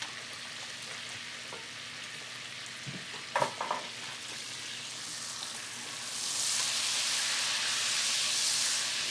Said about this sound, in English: So you can smell this butter already starting to cook and toast.